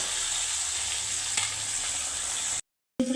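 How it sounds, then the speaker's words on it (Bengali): Small rohu fingerlings fry with onion and mustard in a pan, giving a steady, dense sizzle that cuts out abruptly near the end before briefly resuming. "পেঁয়াজ নৌকা সরষে দিয়ে ভাজা হবে"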